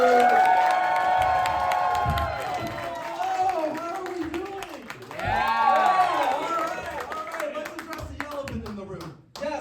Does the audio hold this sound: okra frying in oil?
no